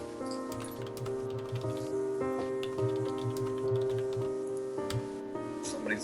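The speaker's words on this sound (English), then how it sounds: "Somebody's typing like crazy." Rapid computer keyboard typing runs steadily under a background of sustained tonal hum, the quick key clicks dense and continuous throughout.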